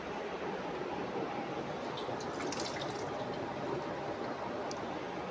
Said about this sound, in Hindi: आलू मैंने पानी में रखे हुए थे, इनका पानी मैं फेंक दूँ।